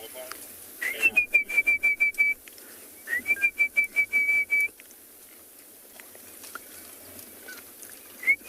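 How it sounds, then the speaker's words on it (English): An orange-breasted bushrat calls on a sunset safari, giving two bursts of rapid, evenly spaced notes over a thin steady whistle, then a few scattered notes, faint and somewhat distant in quiet surroundings. "You can probably also just about hear the orange-breasted bushrat calling."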